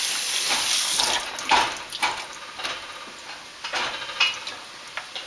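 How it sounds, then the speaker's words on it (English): Tap water runs and splashes into a kitchen sink while ingredients are rinsed for a chili recipe. It is a steady hiss with irregular splashes and a few sharper drips, fairly close, and no one speaks. "Only needs a little more rinsing."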